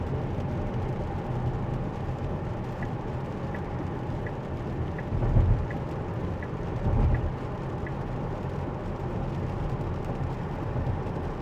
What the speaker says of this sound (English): We're getting a lot of rain, a lot of mist, and a lot going around us.